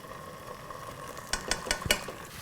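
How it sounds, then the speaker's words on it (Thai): Garlic fries gently in oil over low heat for pork fried rice with black soy sauce, a steady soft sizzle with a few clinks and scrapes of a utensil stirring in the pan toward the end. "เอากระเทียมเนี่ยนะฮะ ใส่ลงไปในน้ำมันเลยครับ เจียวเข้าไฟอ่อนๆนะฮะ"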